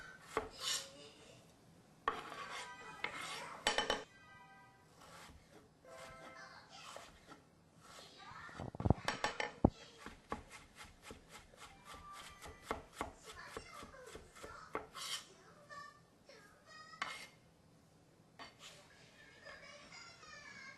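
A knife chopping vegetables for hash browns on a board, with runs of rapid, crisp cutting strokes and some louder isolated chops, close by and irregular in rhythm.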